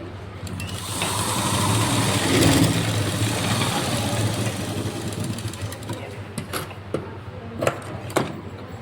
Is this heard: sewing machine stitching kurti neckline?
yes